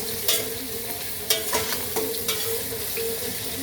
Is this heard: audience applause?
no